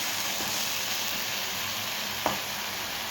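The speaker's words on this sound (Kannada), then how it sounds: "ಬೆಂಡೆಕಾಯಿ ಕಟ್ ಕಟ್ ಮಾಡ್ಕೊಂಡು ಹುರಿಬೇಕಾಗ್ತದೆ ರೀ" Cut okra frying in a pan, a steady close sizzle with a single light clink near the end, no voices.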